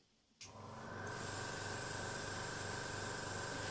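An airbrush air compressor kicks on after a brief quiet moment and settles into a steady, close mechanical hum with a constant drone, running alone with no talk.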